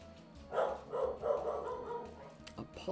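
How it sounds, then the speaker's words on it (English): A dog barks several times in a room during a Pokémon game commentary, three or four moderately loud barks close together, muffled under a low background hum. "Apologies for my dog."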